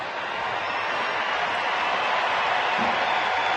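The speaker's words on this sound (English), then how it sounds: "And the crowd are enjoying a great night of athletics" Stadium crowd at Hampden Park during an evening athletics meeting, a steady broadband roar of murmuring spectators filling the space without pause, fairly distant and even in level.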